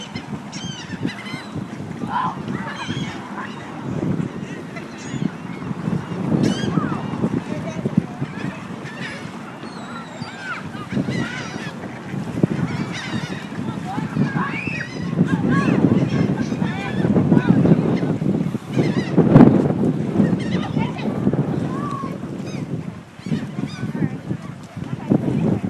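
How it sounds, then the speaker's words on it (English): Geese honk at a lake, a dense, continuous chorus of overlapping calls from many birds at mid distance, with wind rumble on the microphone throughout. "Birds."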